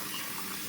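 Water pours into a glass holding bicarb, a short soft steady rushing splash heard close and alone.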